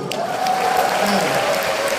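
A brief burst of audience applause at a motivational business talk, even clapping for about two seconds with a voice faintly overlapping.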